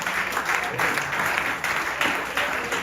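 A church congregation applauds and cheers at a French-language service, a dense, steady burst of clapping from a large crowd that lasts throughout.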